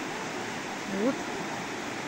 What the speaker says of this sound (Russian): спустились к какому-то такому водопадику